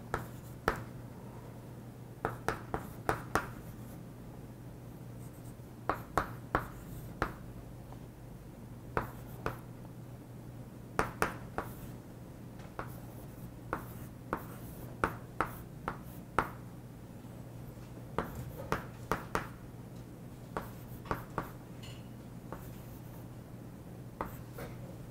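Marker or pen taps and strokes on a board during a math lecture, sparse irregular clicks and scratches over a low steady hum, with long quiet gaps between bursts.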